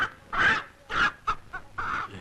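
A chicken clucks in short, loud bursts, four or five close squawks in quick succession, heard alone without talk.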